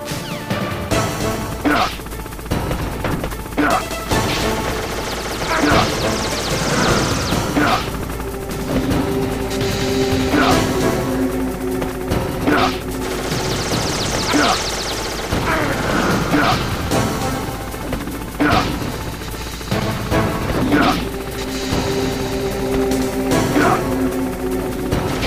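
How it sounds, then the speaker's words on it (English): Heavy gunfire from a Hind helicopter in Metal Gear Solid strikes around a rappelling soldier, loud repeated impacts and bursts over a steady mechanical rumble and game music throughout. "you should be able to dodge the gunfire from the hind while you rappel down"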